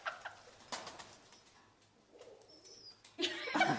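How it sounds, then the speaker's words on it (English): A pigeon coos softly, a few faint low calls amid quiet rustling and a brief flap, before a louder burst of mixed noise at the end. "It's a pigeon."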